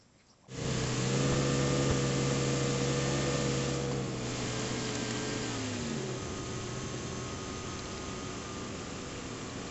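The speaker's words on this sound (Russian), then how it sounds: "завожу машину, довожу до рабочей температуры" A Volvo S60 engine cranks and catches, then settles into a steady, even idle while warming up, running alone with no talk and easing slightly lower in loudness over time.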